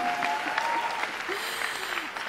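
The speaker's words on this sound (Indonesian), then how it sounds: "Tepuk tangan bagi Tuhan, amin." Church congregation applauding during a sermon, a dense, even wash of many hands clapping at moderate distance, steady throughout with a faint tonal hum beneath.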